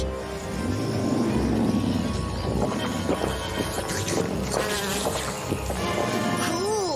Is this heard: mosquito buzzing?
yes